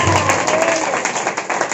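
A church congregation at a fasting prayer meeting claps together, a dense burst of applause lasting under two seconds, with some talk in the background.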